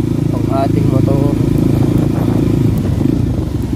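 A motorcycle moving slowly over sand, its steady engine drone loud and close throughout, with scraping and clattering on top and people talking over it.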